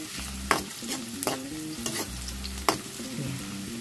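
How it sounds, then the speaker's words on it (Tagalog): Onion sautéing in a hot pan, a steady sizzle and crackle of frying with several sharp stirring scrapes and clinks of a utensil against the pan, close and fairly loud, no voices. "igisa-gisa lang natin ang mabuti"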